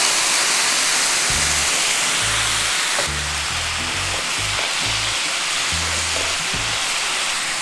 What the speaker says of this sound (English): Then pour it to the pan and let it simmer for about 2-3